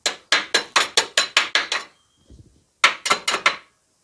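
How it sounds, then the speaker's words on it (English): Hammer-and-dolly panel beating on the bodywork of a 1972 MG Midget: a quick, regular run of about nine sharp metallic strikes, a short pause with a faint clatter, then five more close, ringing blows. "I've got just hammers and dollies and bits and bobs like that"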